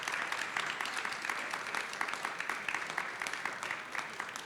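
Audience applause at the close of a French talk on photography, fairly quiet, steady clapping from a modest group running throughout.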